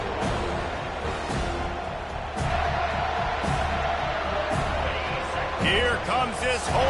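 A big home crowd roars at a college football game between UGA and FSU as the defense faces third down, a loud, dense, continuous stadium din with a commentator talking over it.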